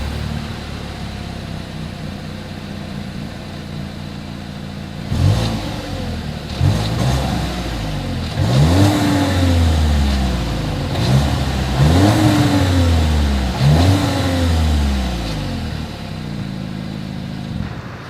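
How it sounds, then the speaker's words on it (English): Exhaust of a 2021 Volkswagen Tiguan idles low, then blips through a series of about five sharp revs that rise and fall in quick succession, close and fairly loud with no talking. "As always, here is that exhaust clip."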